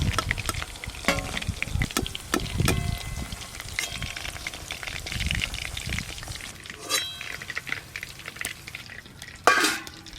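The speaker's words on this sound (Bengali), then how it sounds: "একটু কম আছে, ভালো করে ভাজতে হবে চিকেনের পিসগুলো।" Chicken pieces fry for chilli chicken in a pan on a clay stove, a steady close sizzle broken by scraping stirs and occasional clinks of a utensil, with no talking.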